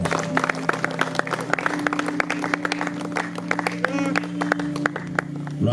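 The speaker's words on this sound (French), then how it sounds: "s'il vous plaît, avec des acclamations." Wedding guests clap in a loose, uneven rhythm with individual claps standing out, while a voice talks and a low sustained tone hums underneath.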